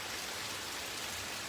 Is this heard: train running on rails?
no